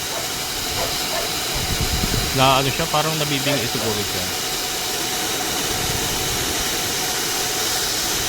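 An aquaponics water pump motor runs with its valve only partly open, giving a steady, even hiss of flowing water throughout while a voice speaks briefly over it.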